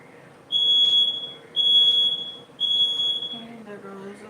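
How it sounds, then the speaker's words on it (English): Three piercing, high-pitched smoke alarm beeps sound at regular intervals, each about half a second long, followed by a faint voice starting to speak. "And there goes a smoke alarm again."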